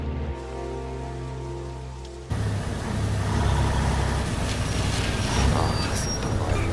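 Steady rain pours in the Mafia video game, a dense broadband hiss with low rumble that swells in abruptly after a quieter opening and stays loud and continuous.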